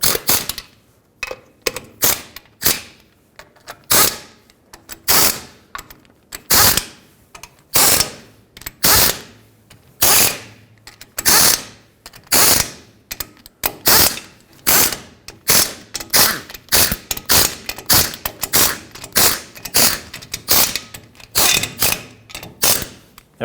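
Differential cover bolts on a 2009-2011 Ford F-150 are run down one after another in a cross pattern with a ratchet, giving repeated close, loud bursts of rapid clicking that stop and start with brief pauses.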